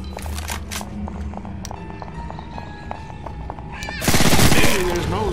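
Machine gun fire in the zombie shooter Left 4 Dead 2, with a few sharp shots early, then a loud sustained rattling burst near the end over game ambience and background voices.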